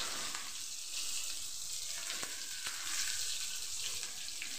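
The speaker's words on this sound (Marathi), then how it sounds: "कांदा लालसर होईपर्यंत भाजून घेऊया" Chopped onion with ginger-garlic paste and bay leaves frying in a pan, a steady bright sizzle with a few light clicks of stirring.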